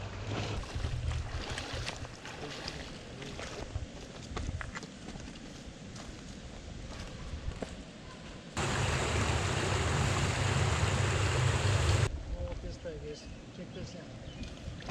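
A Creek Runner 242 boat runs along a creek, with water rushing and churning continuously under the motor and a louder surge partway through. There is no talk.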